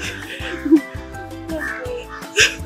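An outdoor bird, crow-like, gives harsh caws close by in short repeated bursts, with a voice speaking softly between the calls.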